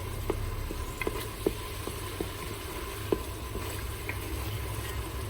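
Ginger and garlic paste frying in a pan, a soft steady sizzle with occasional small pops and spatters close by, quiet and without speech.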